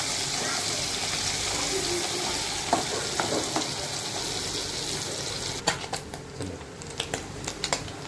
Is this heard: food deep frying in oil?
yes